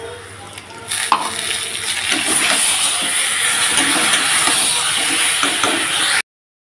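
Spice paste hitting fried potatoes in a pan for aloo dum, a loud, steady sizzle and hiss that jumps up sharply after a quieter first second, with faint stirring scrapes and no talking.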